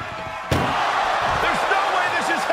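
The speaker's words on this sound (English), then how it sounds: "Just trying to close one door." A single loud slam of an ambulance door hits about half a second in during a wrestling video game, followed by a sustained roar of crowd and game noise with a commentator's voice over it.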